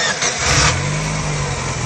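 A car engine turning over and catching, then settling into a steady mid-pitched run nearby, brief and loud with no talk, during a MAP sensor diagnosis.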